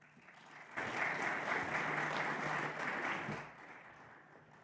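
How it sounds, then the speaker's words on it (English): An audience at an aviation forum session breaks into applause, a dense steady clapping that swells in, holds for about two and a half seconds and then tapers off. "You can clap for him too."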